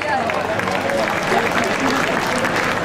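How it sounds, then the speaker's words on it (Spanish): Dense, steady applause from a crowd at the San Bartolomé floral pilgrimage in Fontanales, 2017, for a decorated cart fills the whole clip, loud and continuous. "Un aplauso para el autor de esta carreta."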